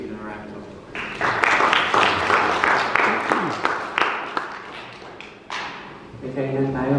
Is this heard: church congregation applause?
yes